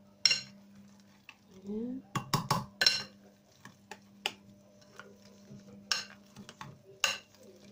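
Boiled potatoes mashed and pressed in a bowl with butter, giving scattered soft squelches and sharp utensil clacks against the bowl, close and intermittent, while a person talks between strokes.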